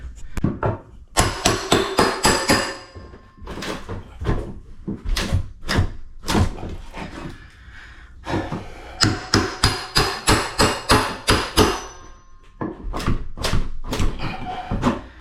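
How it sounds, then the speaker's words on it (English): Repeated sharp metallic hammer strikes driving a crowbar into a door frame, in bursts, loud and close, with short pauses between sets of blows. "you're going to take a crowbar and a hammer, and you're going to get this frame out"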